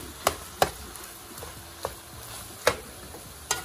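Cabbage rolls simmering in a pot, a soft bubbling hiss under a few sharp clinks and taps spaced through the moment, with no one talking.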